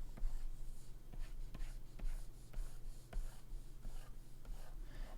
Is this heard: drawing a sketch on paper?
yes